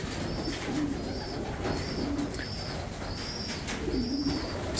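Racing pigeons cooing in a breeding loft, soft repeated low coos recurring every second or so, fairly close, with light chirps over a faint background hiss.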